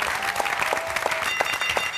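A television studio audience applauding on a live talk show, a dense wash of clapping with a few sharper claps standing out, steady and moderately loud.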